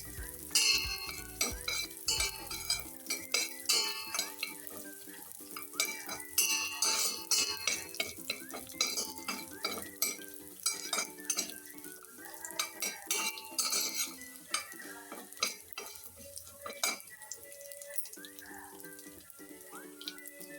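Rice being roasted and stirred in ghee in a pan for Maharashtrian tandlachi kheer, with steady scraping and clinking of a spoon against metal, repeated stirring strokes and a soft sizzle throughout, no voices.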